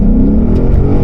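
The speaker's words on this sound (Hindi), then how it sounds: "इसमें जो लाउडेस्ट एग्जॉस्ट आता है वो आता है बोरला" Ford Mustang fitted with a Borla exhaust revving hard as it pulls away, a loud, close, continuous deep engine roar.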